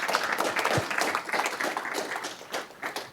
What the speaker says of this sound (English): If we could get a round of applause for these lovely panelists here.